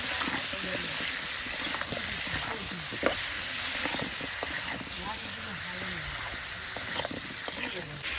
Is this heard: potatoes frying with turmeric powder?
yes